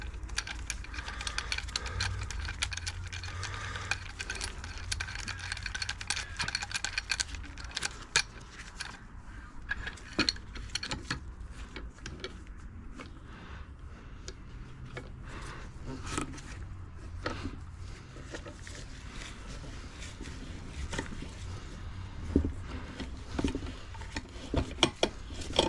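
Bearing puller being cranked by hand to draw a wheel bearing out of a Suzuki V-Strom 1000 rear wheel, giving steady close metallic clicking and ratcheting over a workshop background with occasional sharper knocks.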